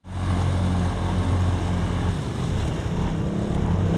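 A loud ATV engine roars steadily while driving through deep water, with splashing and rumbling that stays constant throughout, no voices.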